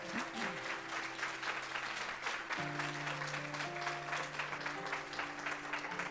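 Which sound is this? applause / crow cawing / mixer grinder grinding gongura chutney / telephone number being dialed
applause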